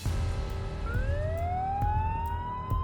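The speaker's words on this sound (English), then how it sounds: "I woke up to the sound of ambulance sirens the next morning." Ambulance sirens wail over a steady background rumble, one tone sweeping upward as it rises and sustains, loud and fairly near with no voices.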